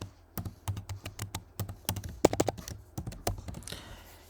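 Password keys tapped out on a computer keyboard while logging in to a server over SSH, a steady run of close, crisp clicks in quick bursts with brief pauses.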